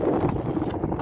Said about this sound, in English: Oh, it's very windy here.